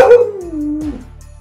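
A dog gives a single close, loud howl that slides downward in pitch and fades out, with no talking over it.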